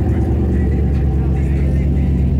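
A 2002 Dodge truck engine runs loud and close, a steady low rumble with a slight revving rise, continuous through the whole moment.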